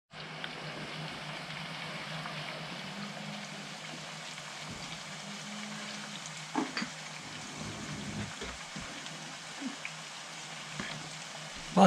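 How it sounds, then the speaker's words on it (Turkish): Potatoes fry in butter in a home kitchen pan with onion and tomato, a steady close sizzle and crackle running throughout, with a few faint knocks near the end. "Patatesleriniz kızarıyor beyler."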